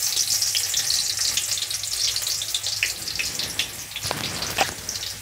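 Thinly sliced onions frying in hot oil for noodles, a dense continuous crackling sizzle, close and steady, with scattered sharper pops and no talk.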